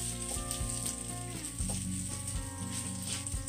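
Butternut squash fritters, mashed flat and crowded together in a frying pan, sizzle steadily with crackling oil, and faint clinks and scrapes sound over the frying; no one speaks.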